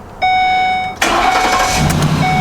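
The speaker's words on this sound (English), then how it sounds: "last thing I want to do is run the engine" A Ford Econoline E-series van engine cranks with a short whir, then catches and settles into a loud, steady idle close by.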